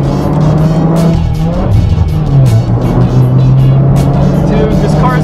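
A Subaru WRX accelerates hard, its engine note climbing loud and close through the gears with a brief dip at a shift, while people shout excitedly over it.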